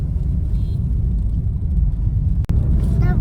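A car drives along a road under the Konkan Railway bridge, giving a steady, loud low rumble with a brief dropout near the end.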